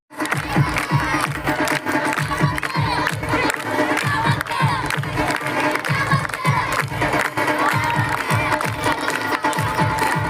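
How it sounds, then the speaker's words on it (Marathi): An audience at a school's annual student cultural gathering breaks into loud, sustained applause mixed with cheering and shouting. The noise is dense and continuous from start to finish. "एकदा जोरदार टाळ्या वाजवा"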